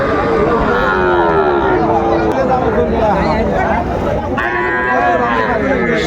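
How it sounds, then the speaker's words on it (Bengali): Young bull calves moo loudly and repeatedly at a busy cattle market, the drawn-out calls close by over a steady hubbub of crowd chatter. "ষাঁড় বাচ্চা"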